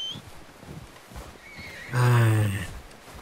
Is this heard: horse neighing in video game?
yes